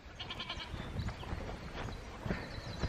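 Several goats bleat repeatedly on a farm as they wait for hay. The calls are close and fairly loud, overlapping one another, with some rustling and movement in the background.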